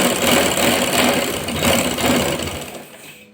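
A sewing machine hums loudly and continuously as it stitches elastic into a trouser waistband in a single seam, then tails off at the end.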